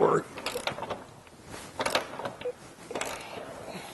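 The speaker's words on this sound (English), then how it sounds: "You're going to do that with an 18mm socket and a long-handled ratchet." A long-handled ratchet with an 18mm socket loosens bolts while rocker guards are installed on a 2-door Jeep Gladiator, with a series of creaking clicks and strains at close range.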